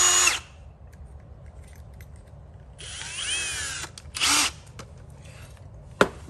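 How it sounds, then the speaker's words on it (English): A power drill pre-drills holes in a storm door during installation, with a short whir, a longer high spinning run, then two more quick bursts, close and loud, with no talk. "Once again, you should pre-drill."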